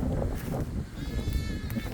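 A farm animal on a pasture bleats loudly, calling out for its owner once with a wavering cry over steady outdoor background noise.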